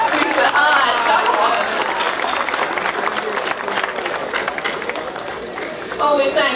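An audience cheers and applauds in a steady loud wash of clapping and crowd noise that lasts throughout, with voices mixed in.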